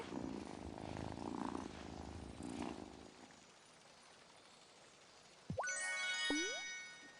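Cat purring in the cozy farming video game Wylde Flowers, a soft low rumble under background music, followed by bright chiming game sound effects with rising tones.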